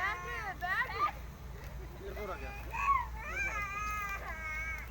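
A young child cries and whimpers in rising, wavering wails, somewhat distant, in a park, with background chatter and outdoor noise.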